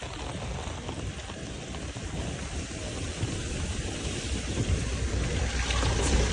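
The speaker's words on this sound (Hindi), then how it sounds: "तो गाइस, बारिश हो रही है, देखो।" Heavy, continuous rain pouring down, a dense broadband hiss that swells slightly louder toward the end, with no voices.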